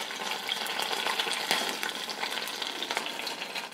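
Coconut milk cooking down into homemade coconut oil in a pan gives a steady, soft fizzing sizzle, with occasional light stirring scrapes, close up and continuous, with no speech.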